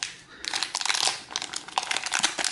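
Phone cables for an LG V30 unboxing are pulled out of plastic bags, making close, loud crinkling and rustling in bursts with brief pauses.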